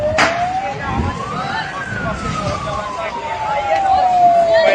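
A fire engine siren wails at a car fire, rising then slowly falling in pitch, over a rumbling street background, fairly loud.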